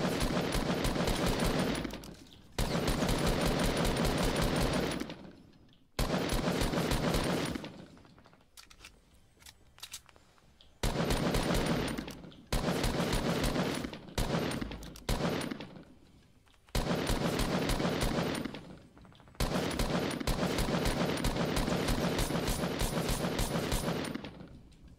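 An assault rifle fires at long range in a video game, in long sustained automatic bursts broken by short gaps and mechanical clicks, loud and close with no speech.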